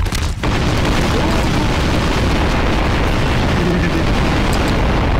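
A huge explosion in the video game Garry's Mod, with Chernobyl blown up, hits hard and then rolls into a long, dense, rumbling roar that fills the whole stretch without fading.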